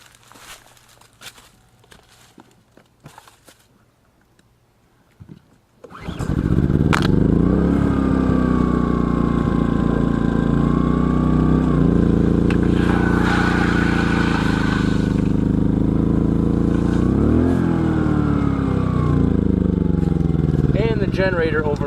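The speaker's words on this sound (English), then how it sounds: "So I'm going to get the generator started here, and then hopefully we'll get some decent flow" A portable generator starts after quiet handling noises, then roars steadily up close, its engine droning and shifting pitch under load while powering a well pump at an off-grid cabin in Northeast Texas.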